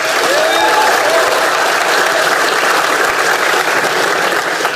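Dense, steady applause from a large audience at a hip-hop event in Iligan fills the whole stretch, loud and close, with no pauses.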